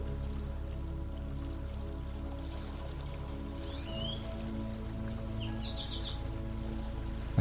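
Rain falls in a steady, even hiss outdoors, with a few faint bird calls chirping briefly above it midway through.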